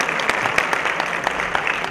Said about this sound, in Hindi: I think तालियां बहुत जरूरी हैं।